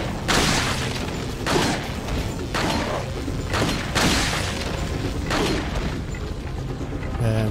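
Explosion in the Resident Evil 4 video game, heavy booming blasts repeating in a dense series of loud bursts over a constant game soundtrack.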